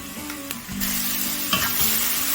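Turmeric and chili powder sizzle in a hot pan for an Indian-style chicken pizza topping, a steady close frying hiss with soft stirring scrapes and no talk.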